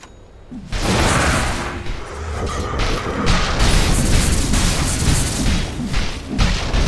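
A Dota 2 tower collapses with a heavy boom and crashing, crumbling debris that rolls on for several seconds, loud and close, with thuds and whooshes mixed into the game's battle noise.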